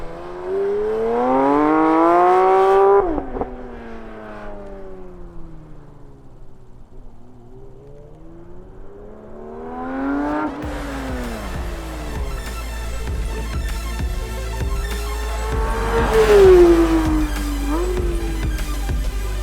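A Porsche 911 GT3 RS engine revs up and falls away on track, dropping to a quieter stretch before climbing again, heard from inside with strong low rumble and little talk.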